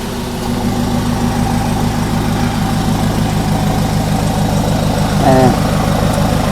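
A Ford Ranger XLT pickup with a straight-pipe exhaust and a remapped engine idles nearby, a loud, steady, throbbing low rumble with a brief voice rising over it near the end.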